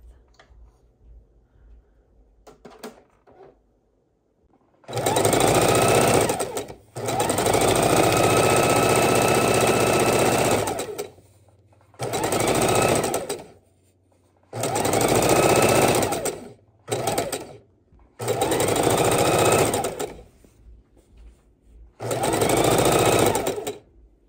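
A sewing machine pieces quilt blocks with a quarter-inch seam, running loud and close in six separate bursts of a few seconds each, with short silent pauses between them.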